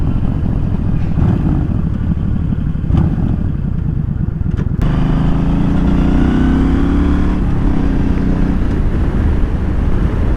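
A Yamaha Stryker motorcycle accelerating on a ride, a loud continuous engine rumble with a gear change partway through and rising revs afterward, close and steady with no talk.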